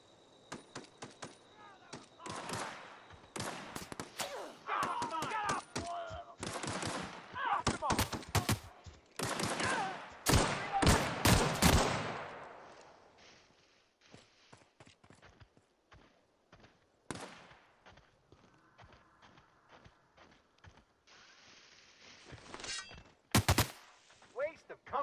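Gunfire in the video game The Outer Worlds, with dense bursts of shots and rapid automatic volleys in the first half, then scattered single shots and a loud late burst, mixed with footsteps and game effects.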